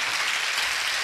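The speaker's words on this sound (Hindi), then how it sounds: "सुन रहे तो दो ही तालियां क्यों बज रही" Applause from an audience during an afternoon Jain religious sermon in Sagar, a dense steady wash of clapping throughout, fairly loud and without talk.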